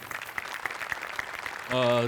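Studio audience applause for a performer's makeup on the Marathi comedy show Maharashtrachi HasyaJatra: a steady patter of many hands clapping at moderate volume, ending in a bright musical tone that swells in over the final moments.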